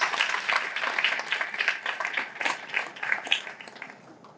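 A crowd at the outdoor groundbreaking ceremony for Liberty Place applauds, with close, dense clapping that holds steady and then thins and fades toward the end.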